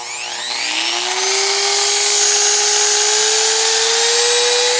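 A DoIt rotary tool, a Dremel-style handheld tool, runs alone at higher speed. Its steady, loud whine rises in pitch as it spins up, then holds an even tone.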